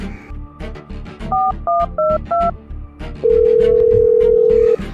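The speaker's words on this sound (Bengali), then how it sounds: "রিয়াকে ফোন করি" A phone dials out: four short two-tone keypad beeps in quick succession, then a long steady ringback tone, all over faint background voices and household noise.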